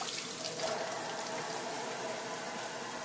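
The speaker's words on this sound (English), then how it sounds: "Run some water in the bowl, just get the last bit of grains out, and then give them a good rinse." Tap water runs steadily into a bowl as quinoa is rinsed in a mesh strainer, a soft continuous hiss and splash close by with no voices.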